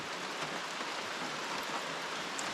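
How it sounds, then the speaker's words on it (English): Rain pattering on a camping tarp in a Blue Ridge wildlife management area, a soft, steady hiss of countless drops with no pauses, fairly quiet and heard on its own. "Only thing better than sleeping next to a rushing river is rain on the tarp."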